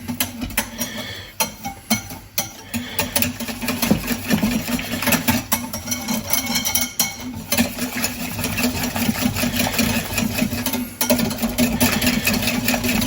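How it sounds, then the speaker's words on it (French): Cake batter of milk and cornstarch is mixed with an electric mixer, a steady close motor whir running continuously throughout. "Et on va mélanger ça."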